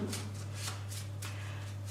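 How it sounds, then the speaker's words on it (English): A deck of playing cards shuffled for a children's Go Fish card game, giving a few quick riffling bursts over a steady low hum, close and fairly quiet. "So, shuffle first."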